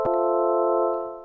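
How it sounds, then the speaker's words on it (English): A sustained synth-like tone with a sharp attack and many steady stacked harmonics, used as the raw sample before granular processing in Steinberg Padshop, holding evenly for about a second before tapering off, alone with no voice. "a granular synthesizer takes a sound like this"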